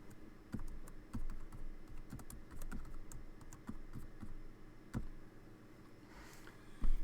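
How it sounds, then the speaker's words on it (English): Typing on a computer keyboard, irregular clicks and sharper key thumps close to the microphone, with scattered bursts and a brief pause near the end. "Even my keyboard is slow."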